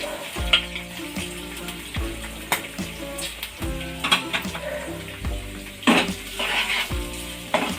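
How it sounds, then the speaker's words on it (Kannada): Onions fry in a pan for a fenugreek-leaf palya, a steady close sizzle broken by regular scraping stirs and clinks of a spatula against the pan, with no talking. "ಈರುಳ್ಳಿ ಕೂಡ ಚೆನ್ನಾಗಿ ಬ್ರೌನ್ ಕಲರ್ ಬರೋ ಥರ ಫ್ರೈ ಆಗಬೇಕು"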